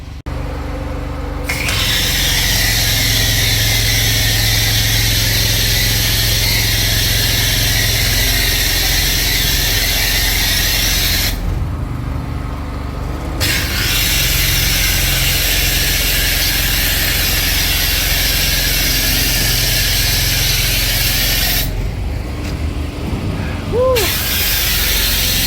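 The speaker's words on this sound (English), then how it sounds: "it's a pretty good little pressure washer by Honda, but 15 years old" A 15-year-old Honda pressure washer engine runs loud and steady nearby, its constant drone broken by two short drops in the spray noise.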